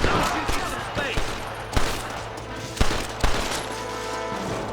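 Gunfire from the video game Red Dead Redemption 2: several sharp shots crack out at uneven intervals over a dense background of in-game combat noise, with some talk under the action.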